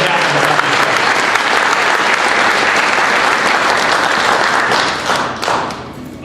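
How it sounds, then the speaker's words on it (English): Loud, dense audience applause fills a city hall State of the City gathering in Clearlake, steady throughout before thinning slightly near the end. "So if you could just give them a big round of applause"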